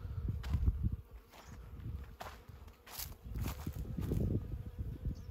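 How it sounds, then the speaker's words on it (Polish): Bees humming faintly around a flowering rapeseed field, a soft steady drone under footsteps in flip-flops and rustling of plants. "ile tu pszczół jest"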